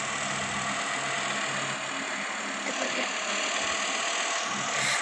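A car engine idles steadily in a driving video game, a continuous, fairly loud drone with little variation across the whole stretch and no talking.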